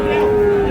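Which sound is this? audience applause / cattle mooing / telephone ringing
cattle mooing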